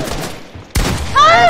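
A single sharp burst of gunfire in an online shooter video game cracks out mid-clip over steady background game noise, followed by a voice speaking.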